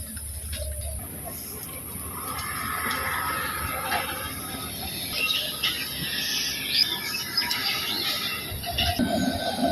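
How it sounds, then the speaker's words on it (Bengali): A train rumbles past at moderate distance in light evening drizzle, with rolling clatter and faint high squeals building toward the end amid background hiss. "ট্রেন এটা দেখুন ট্রেনটা কত সুন্দর যাইতেছে"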